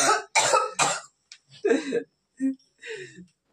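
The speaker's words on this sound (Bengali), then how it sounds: "কাশতে কাশতে পাগল হয়ে যাচ্ছে।" A person who is ill coughs in several harsh, close bursts, some sounding like throat clearing, with short pauses between them and no other speech.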